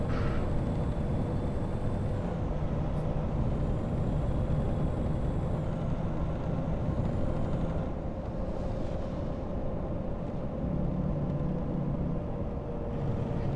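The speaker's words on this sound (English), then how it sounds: "Jake brakes pretty quiet on it." A truck with a 605 horsepower Cummins engine and 13-speed transmission engine braking in American Truck Simulator, a continuous low rumbling drone with a faint rattle, fairly quiet and steady throughout, no talk.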